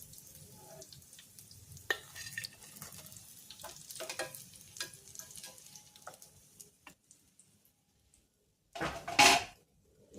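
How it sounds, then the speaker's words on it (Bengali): Vegetable potato chops fry in hot oil with a steady soft sizzle, punctuated by a few clinks of a utensil against the pan and a brief louder burst of crackling near the end. "এগুলো একটু ফ্রাই করে দিই"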